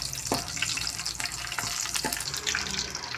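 Mustard seeds, cumin and garlic sizzle in hot oil in a pan on a gas stove, a steady close frying hiss with scattered crackles and pops throughout, no voices.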